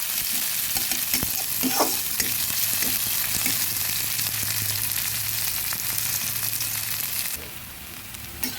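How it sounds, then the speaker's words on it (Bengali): Onions fry in a pan for punti fish gamakha, giving a loud, continuous close sizzle and crackle with scattered stirring clatter, which drops somewhat near the end; no voices. "পেঁয়াজগুলো হালকা ভেজে নিলাম"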